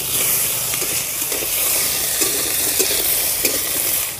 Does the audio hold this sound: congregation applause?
no